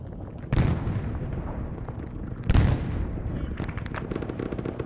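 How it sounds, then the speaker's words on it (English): Explosive charges go off in Arma 3, two heavy booming detonations about two seconds apart with rumbling tails, followed by quieter cracks of distant fire. "let's touch off those explosives"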